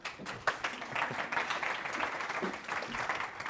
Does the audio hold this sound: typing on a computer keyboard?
no